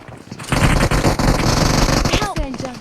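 Rapid automatic gunfire in a video game, a dense, loud, continuous burst of shots lasting over two seconds, with a voice briefly audible near the end.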